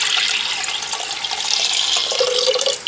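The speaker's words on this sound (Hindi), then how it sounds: "मट्टी की हांडी में पानी डाला" Water pours steadily into a clay cooking pot, a continuous close splashing stream that runs for the whole few seconds.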